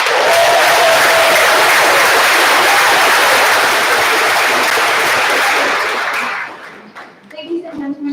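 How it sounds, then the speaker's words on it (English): A commencement crowd applauds and cheers for a graduating-class award recipient, loud dense clapping sustained for about six seconds before fading into voices and scattered claps. "Ladies and gentlemen, please give another round of applause for our RAISE Award recipients"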